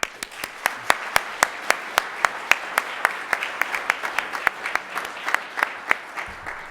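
An audience applauds after a lecture, a steady run of sharp, even claps spread across the room at moderate distance, with no voices over them.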